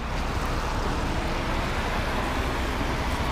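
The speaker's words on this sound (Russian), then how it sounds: "тут шумновато на дороге. Машины ездят" Road traffic with cars driving past, a dense, continuous broadband roar without distinct passes, steady and fairly loud throughout, no talk.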